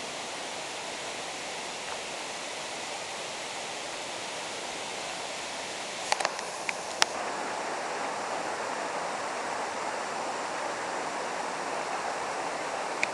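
Barcelos waterfall in Dois Córregos pours in a steady, loud broadband rush that holds without a break, with a few faint brief clicks partway through.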